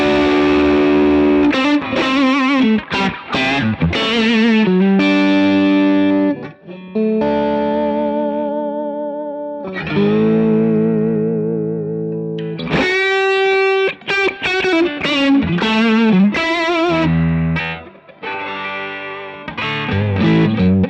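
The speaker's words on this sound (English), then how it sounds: "I can still hit the boost pedal just to when I want a little bit more drive" Electric guitar played through a custom Two-Rock Bloomfield Drive amplifier with a boost pedal engaged, loud driven chords and sustained notes ringing alone in bursts with pauses, no talking.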